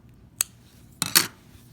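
Scissors clipping a yarn end close on a finished crocheted coaster, a brief metallic snip followed about half a second later by a double crisp cut, near and quiet with no talk.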